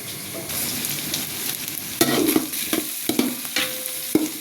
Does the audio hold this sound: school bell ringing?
no